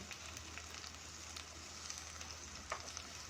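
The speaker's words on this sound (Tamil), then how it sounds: "இந்த கருவேப்பிலையை சேர்த்து அதையும் நல்லா வதக்கி கொடுப்போம்" Curry leaves sautéing in a pan for a Kongu-style chicken curry, a faint, even sizzle with light crackles and an occasional soft pop, no talk.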